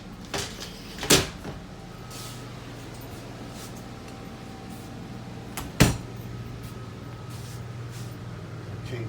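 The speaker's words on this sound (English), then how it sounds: "Glass shower door." Glass shower door in a 2015 Forest River Georgetown 270S RV, with two sharp clacks of the door opening and closing, the first near one second and a louder one near six seconds, over a steady low hum.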